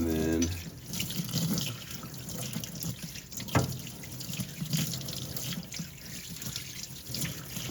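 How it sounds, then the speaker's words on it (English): Tap water runs into a sink, rinsing vinegar off a dishwasher filter, a steady close splashing stream with small clatters and shifts as the part is turned under the flow. "Rinse it well, rinse all the vinegar off."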